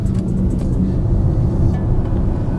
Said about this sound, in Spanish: Entonces ahorita estamos en modo eco y si aceleramos a fondo